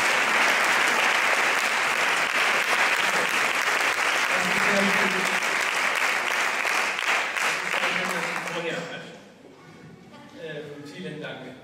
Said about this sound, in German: wir heißen Herrn Stern mit einem kräftigen Applaus